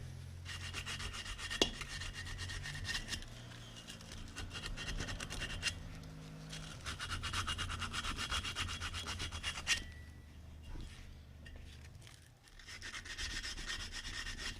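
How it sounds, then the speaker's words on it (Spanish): Steady abrasive rubbing of sandpaper over a refrigerator's copper pipe during a fridge repair, close and continuous strokes with brief pauses, no talking. "Tapamos con el dedo para que no nos entre vestigio y lo lijamos."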